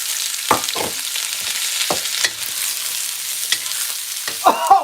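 Onions and celery stir-frying with noodles and oil in a pan, a steady sizzle with a few sharp stirring scrapes and clanks, close and loud, with no talking.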